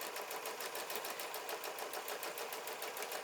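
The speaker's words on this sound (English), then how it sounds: "I'm going to just do 1/8 of an inch regular stitches all the way around this" Sewing machine running steadily as it stitches small 1/8-inch stitches around the edge of a quilt top, a fast even whir with a rapid repeating pulse, close and alone with no talk.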